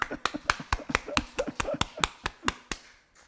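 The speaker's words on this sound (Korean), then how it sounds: "박수도 이렇게 쳐줘야 돼, 박수." A church congregation claps during a Sunday sermon, with about a dozen sharp, evenly spaced hand claps in a brisk rhythm, close and fairly loud, that taper off at the end.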